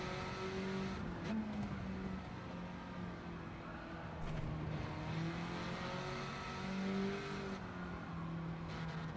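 Racing car engine in a racing video game, a continuous loud drone whose pitch rises and falls as the car accelerates and shifts through corners, steady throughout with no talking.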